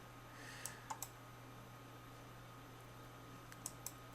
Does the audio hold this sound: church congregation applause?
no